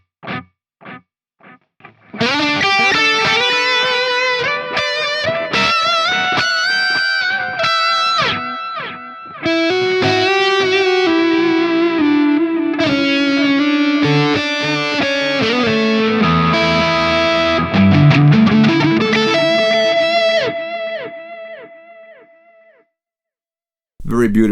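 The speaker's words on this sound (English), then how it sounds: "Then we have a delay that is an analog model delay, so all the repeats get degraded" A distorted high-gain guitar through an Amped Volcano amp plays chords and single notes through an analog-model delay. Each phrase is trailed by degraded, echoing repeats that keep sounding loud and sustained until the last ones fade out near the end.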